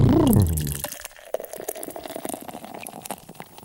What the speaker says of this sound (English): It's going to pour in and it's going to fill the way up